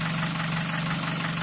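A Nissan QG18DE engine that has run 60,000 km on gas idles steadily with a low hum and a fast, regular knocking tick running through it, close and even throughout.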